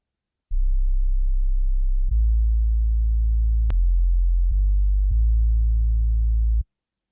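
Deep synthesized bass notes play a short line of sustained tones, changing pitch a few times, clean and loud with no other instruments.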